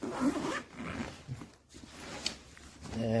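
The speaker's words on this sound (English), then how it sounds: "Zip that back up." The side zip on a K&F Concept camera backpack is pulled shut in a few quick rasping strokes, close and moderately quiet.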